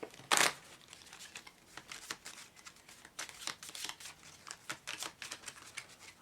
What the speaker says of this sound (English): I'm shuffling up the cards again and getting ready to play